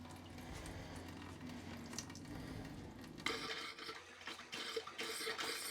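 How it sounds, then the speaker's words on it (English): An RV hot water faucet abruptly begins sputtering air, bursts of hissing and spitting water surging irregularly after a low steady background, close and fairly loud. "we're going to hear air coming out of that faucet because all the air that's in that water heater has to come out"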